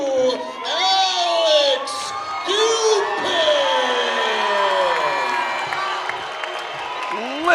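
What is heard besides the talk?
sold-out crowd applauding and cheering at fight event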